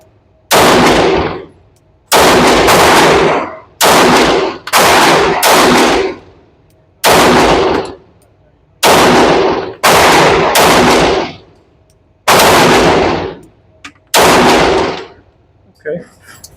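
A Remington R1 2011 pistol fires eleven loud, sharp shots close by at an uneven pace, some in quick pairs and others spaced apart, each ringing briefly before the next.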